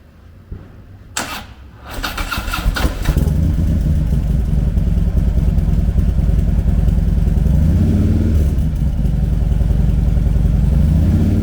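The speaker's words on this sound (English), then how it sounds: "Powered by a 110 cubic inch V-twin motor" A 2015 Harley-Davidson Electra Glide Ultra Limited with a 110 cubic inch V-twin cranks briefly after a couple of clunks, then fires and settles into a loud, lumpy, steady idle close by.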